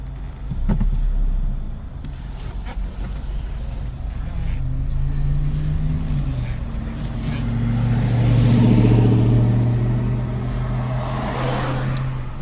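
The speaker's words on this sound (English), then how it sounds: "So now it's just a matter of taking it for a little test drive." A Chevy Cobalt SS on a test drive after an engine replacement, heard from inside the cabin: a steady engine hum and road noise swell gradually as the car accelerates.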